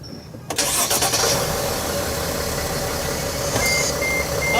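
A Mercedes Sprinter van's engine cranks over on a new starter motor after a short quiet pause. It quickly catches and settles into a steady, rough-edged idle, with a slight bump in loudness near the end.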